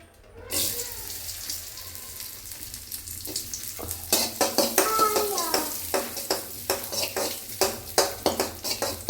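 Raisins sizzle and fry in a pan for jackfruit seed halwa, a steady crackle punctuated by repeated scraping stirs of a spoon against the pan, close and clear.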